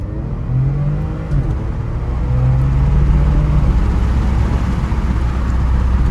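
A Porsche Macan S in sport mode is braked hard and then accelerated, its engine a close, loud, low drone that swells as it speeds up and holds steady, heard from inside the car.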